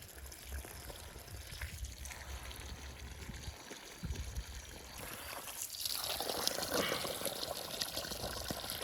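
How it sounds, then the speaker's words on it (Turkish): Water poured from a watering can onto lettuce seedlings in planting beds, a steady trickling stream that grows louder and fuller toward the end, with low background noise. "Direkt yataklarına suyu koyacağız."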